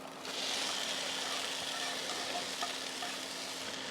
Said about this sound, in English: just gonna cook them till they go translucent, mix them in with all that curry paste